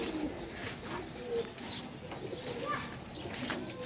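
Flying pigeons kept for a pigeon-flying game give soft cooing calls against a steady outdoor background, faint and continuous with no one speaking.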